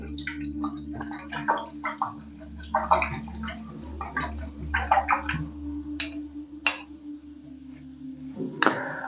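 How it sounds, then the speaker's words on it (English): A paintbrush is swirled and rinsed in a water jar, producing a series of small close gurgling splashes and clinks scattered irregularly over a quiet background. "I'm just going to twist my brush like so. I'm going to rinse that off."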